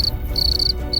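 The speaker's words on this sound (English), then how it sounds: "Crickets also sing to intimidate rival males." A male cricket chirping up close, loud shrill pulsed trills broken by short gaps over a faint low background.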